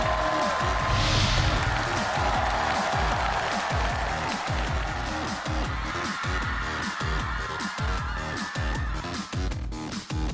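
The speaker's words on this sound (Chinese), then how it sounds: "掌声有请沙溢" Studio audience applause welcoming actor Sha Yi onto a Chinese variety show stage, a dense, sustained clapping roar lasting throughout with rhythmic beats and music underneath.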